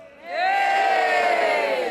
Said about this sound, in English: Job Fletcher now rouses the crowd.